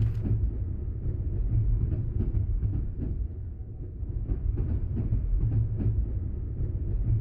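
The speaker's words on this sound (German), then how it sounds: "Zug." Train rolling past in the horror game Project 13, a steady low rumble with faint rhythmic clatter of wagons, continuous and fairly close for the whole stretch.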